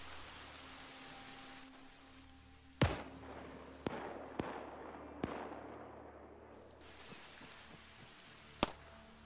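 Gunfire in an open-world zombie campaign video game: five or six sharp, isolated shots ring out at irregular intervals over a faint background hiss, fairly near and with no talking.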